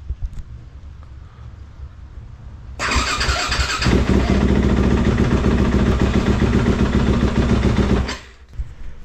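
A car engine on its stock battery cranks briefly, then fires and settles into a steady, loud idle close by for several seconds before cutting off.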